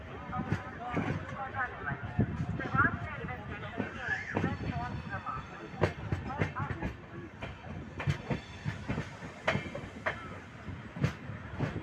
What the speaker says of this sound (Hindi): आप उधर सामने वाले प्लेटफॉर्म पर एक और ट्रेन का अराइवल देख रहे हैं। ये कटिहार से अमृतसर के बीच चलने वाली अम्रपाली एक्सप्रेस है।